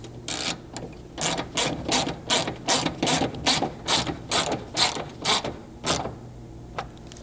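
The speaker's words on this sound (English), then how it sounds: "and then reinstall this fastener" Hand ratchet tightening a bumper fastener on a 200 Series Land Cruiser, a rapid series of about a dozen crisp, close clicking strokes in steady rhythm, then a final isolated click.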